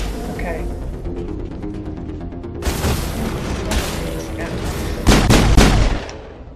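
Gunfire in the Mass Effect video game crackles in short loud bursts against a low game soundscape, with a sustained volley near the end that fades out.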